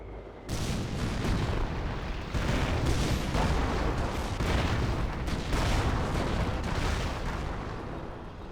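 Rocket artillery (Werfer) barrage in a Company of Heroes match, a dense continuous rumble of launches and explosions sustained loudly for several seconds after a sudden onset.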